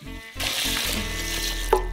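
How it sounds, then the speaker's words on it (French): Water pours steadily into a pot, a close, continuous splashing gush that starts after a brief pause. "On verse 2 litres d'eau."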